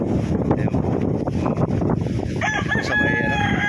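A rooster crows loudly in the latter half over strong wind buffeting the microphone, with chickens nearby in the open air beside rice fields.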